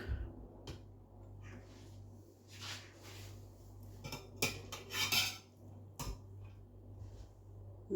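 A metal spoon scrapes and clinks against a pot while serving chicken biryani onto a dish, several irregular clattering knocks and scrapes over a low background hum, close and moderately quiet, no speech.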